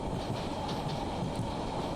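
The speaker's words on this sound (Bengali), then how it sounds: "এখানে ট্রেন আসলে খুব ধীরে ধীরে চলে" A train rolls slowly past an elephant crossing near Chakaria railway station, giving a low, continuous rumble of wheels and carriages, faint and steady with no voices.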